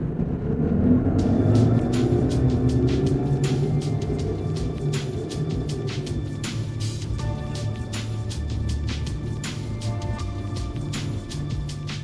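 A fishing boat motors through a wide swooping turn off South Padre Island in windy conditions, its engine a low steady rumble mixed with rushing wind and water, punctuated by frequent sharp slaps and knocks against the hull.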